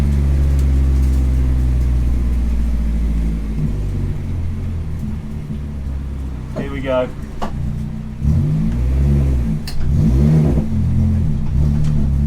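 A 300 hp Mini R55 Clubman race car's engine drones loudly from the cockpit, then revs and accelerates in rising sweeps, with someone speaking briefly over it.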